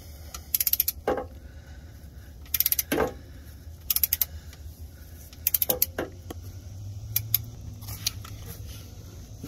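Ratcheting wrench bursts on the final 16 mm bolt during a 46RE transmission swap on a 1996-2001 Dodge Ram 1500 5.9L, quick clicking runs in several separate bursts with metallic creaks between them, close by.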